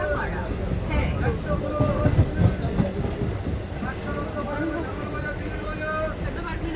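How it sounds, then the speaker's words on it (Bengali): Interior of a moving passenger train, a continuous rumbling roar with rhythmic rattles and clanks, people talking nearby over the running noise. "ট্রেন এসে গিয়েছে উঠে পড়েছি"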